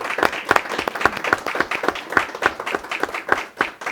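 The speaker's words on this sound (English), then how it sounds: "So let's give them a big round of applause." A small studio audience at a live show claps in a steady, brisk round of applause, individual hand claps distinct and close, lasting the full few seconds without talk.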